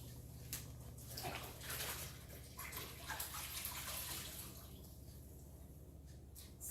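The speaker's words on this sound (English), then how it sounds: "let me give my hand a quick wash" A kitchen faucet runs while someone washes their hands, making a continuous splashing hiss of water with small drips and shifting gurgles. It is fairly quiet and steady, and no one talks.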